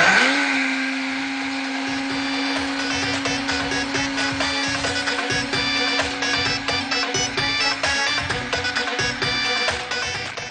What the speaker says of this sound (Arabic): بصوا الخلاط مشي معانا تمام وزي الفل